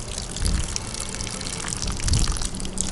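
Water running steadily from an RV shutoff valve, a continuous close splashing stream with slight surges and no voices.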